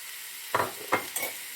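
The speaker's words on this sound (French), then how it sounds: "on va faire revenir comme ça notre viande pendant 5 minutes" Meat and carrots sizzle in a pan for a tajine with olives, with two or three short bursts of frying and stirring rising over a quiet background hiss.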